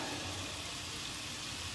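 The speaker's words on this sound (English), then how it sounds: "So we've got a nice saute going on." Pasta fagioli ingredients sautéing in a hot pan, a dense, even sizzle heard up close that holds steady throughout.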